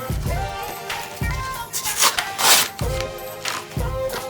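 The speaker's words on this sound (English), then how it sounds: "let's mix up the epoxy" Two-part 5-minute Loctite epoxy being mixed for an open-pour mold: repeated scraping and rubbing strokes of a stir stick against a cup, rhythmic and close.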